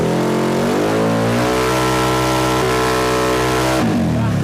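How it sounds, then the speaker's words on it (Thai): A Yamaha X-Max scooter engine revs hard with the throttle twisted open, rising in pitch and holding a loud sustained drone close by before dropping off near the end. "เราต้องบิดคันเร่งเยอะ เพื่อจะให้ความเร็ว ตรงที่เราอยากจะจูนตรงนั้น"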